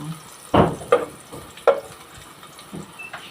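Garlic and onion sauté in a pan, a steady sizzle broken by several distinct stirring scrapes and knocks from a utensil, close up with no talking.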